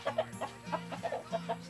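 A rooster clucks in short repeated bursts, fairly faint, with an uneven rhythm and no voices.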